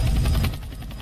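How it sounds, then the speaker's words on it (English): Helicopter flying in the Roblox video game, a brief loud rhythmic rotor drone with steady chopping pulses that eases slightly in volume. "We're flying the helicopter through the sky."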